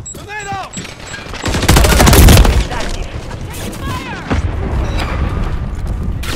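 Grenade blast and bursts of gunfire from the video game Modern Warfare 3, a loud boom near the middle amid rapid shots and shouting voices, with continuous battle noise throughout.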